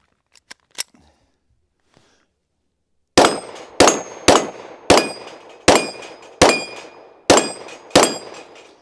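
Shots from a Laugo Alien pistol fired with iron sights at a steel plate rack 15 yards away: eight loud, evenly spaced reports, each followed by a ringing metallic clang, preceded by a few faint clicks.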